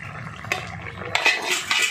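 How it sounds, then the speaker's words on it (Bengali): A lid comes off a cooking pot of rohu fish curry with bitter gourd and eggplant: a soft clink of metal, then a brighter scraping rattle and clatter as the lid lifts away, close and fairly loud. "এবার আমি ঢাকনাটা খুলে নিচ্ছি।"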